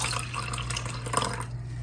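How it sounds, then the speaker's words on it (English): Water pours steadily into the reservoir of an essential oil diffuser, a close, quiet trickle over a constant low hum, tapering off near the end. "So I'm gonna add water here now."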